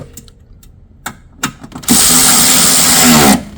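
A power tool runs up on an airbox bolt on a U40 Toyota Kluger with the 3.5L petrol V6: a few light clicks and taps, then a loud, close, steady whirring burst of about a second and a half.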